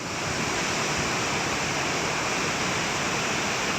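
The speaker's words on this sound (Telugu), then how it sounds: "ఇక ఇది చూడుర్రి ములుగు జిల్లాలో ఉన్న బొగత జలపాతం." Bogatha waterfall in Mulugu district, swollen and pouring hard, gives a loud, steady, unbroken roar of rushing water that fills the whole stretch without pause.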